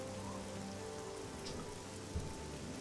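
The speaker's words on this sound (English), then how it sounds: "So it's raining." Rain falling in the video game Oblivion, a faint, even wash of rainfall that holds steady throughout with a brief low thump near the end.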